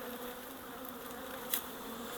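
Close, continuous droning of many honey bees around a freshly opened hive, steady throughout with one brief soft knock partway through and no talk.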